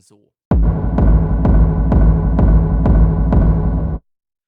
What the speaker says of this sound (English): Essentially, it's a combination of distortion and a reverb with a 4-second decay